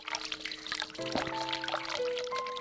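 Water pouring in the video game The Cat Lady, a steady close stream with tonal ringing notes layered over it, continuing without pause.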